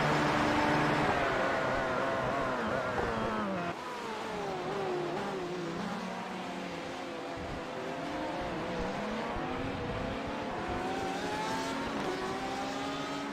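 Several race cars crossing the finish line at Spa in the iRacing game, engines whining and sweeping up and down through gears as they pass one after another, loud and continuous with no voices.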